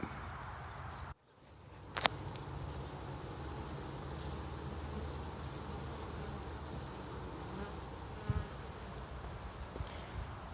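Honey bees buzzing at an apiary's south bee yard late in the season, a constant hum of many insects surrounding the listener, with a brief dropout and a couple of small clicks but no talking.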